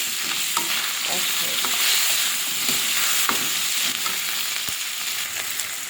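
Chopped onion with five-spice seeds fries in hot oil in a pan that has just cooked fish heads, giving a loud, continuous sizzle with occasional spatula scrapes and light knocks as it is stirred, and no voices.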